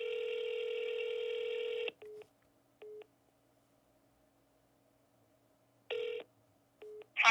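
A telephone ringback tone sounds through the earpiece on an unanswered cold call to a real estate lead: one long buzzing ring, then a silent pause, short clicks and another ring starting, fairly quiet.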